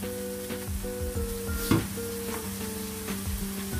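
Soy sauce sizzling and frying in a hot pan while making kkanpunggi, Korean-Chinese spicy fried chicken, a steady close crackle with stirring scrapes and harmonic tones in the background.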